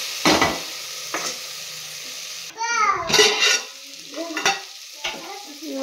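Chopped vegetables sizzle in a pan while a spoon stirs them in bursts of scraping and clatter, close and fairly loud, with occasional soft voice-like sounds between the stirs.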